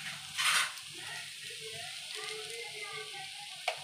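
Fasting-style dry potato sabzi with roasted peanuts and salt frying in a pan, a soft steady sizzle with scraping stir strokes, a louder burst early on and faint speech-like murmur underneath.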